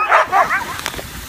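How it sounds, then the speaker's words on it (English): Siberian huskies bark and yip in quick, excited bursts at a dog sled stop in Lapland, Finland. The barks are loud and close, a few sharp calls in a row, with no talking. "You can hear the dogs barking up a storm."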